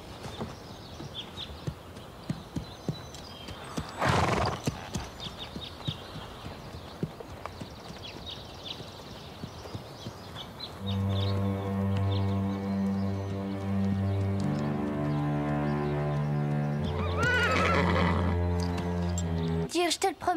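A horse's hooves clip-clop steadily while it gives a couple of neighs, under people talking, with music entering partway through.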